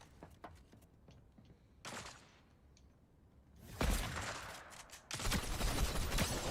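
Gunfire from a sniper rifle in Fortnite during a competitive tournament match, with sharp cracks and whooshing bursts that grow louder and denser toward the end, set over game ambience.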